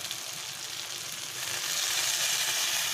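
Tilapia pieces sizzle in hot oil in a pan, a steady hiss that swells a little louder midway, with no talking.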